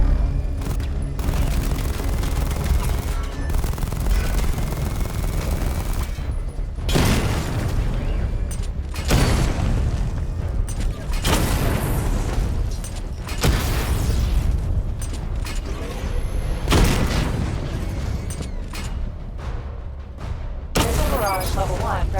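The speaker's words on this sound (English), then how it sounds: "Destroy targets to charge up weapon energy and activate missile barrage." Targets blown up by Batmobile weapons in Batman Arkham Knight boom repeatedly, a dense string of loud blasts and crackling bursts separated by short gaps, close and forceful throughout.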